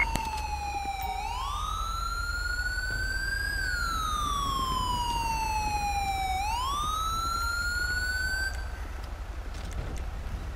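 A police-style emergency siren in Grand Theft Auto V wails alone and loud, sweeping slowly up and down in long continuous cycles for the whole stretch, with a low engine rumble beneath.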